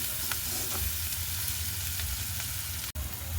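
Vegetables and pasta sizzling and frying in a pan, a steady close crackle with a few soft stirring knocks and one brief sharp clack near the end.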